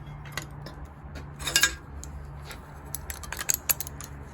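Knives swapped in a bevel grinding jig, with metal clinks and a clamp being undone, a cluster of sharp taps near the middle and more light clicks toward the end, close and quiet.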